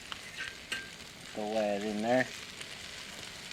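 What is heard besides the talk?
crappie fish frying in a frying pan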